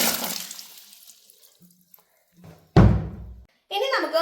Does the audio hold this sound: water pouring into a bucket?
yes